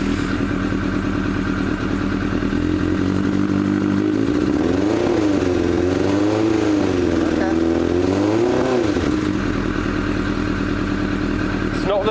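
A fuel-injected motorcycle engine runs loud and close, its pitch rising and falling through several throttle blips before settling into a steady idle.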